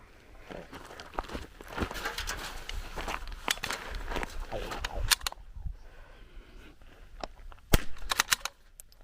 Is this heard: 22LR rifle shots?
yes